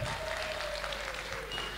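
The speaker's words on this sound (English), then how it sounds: "Why don't we give another clap for all those items?" Brief burst of audience applause at a Pacific Island culture night, dense clapping from a crowd sustained without a break.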